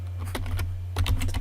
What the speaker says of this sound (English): I'll just type soft transform,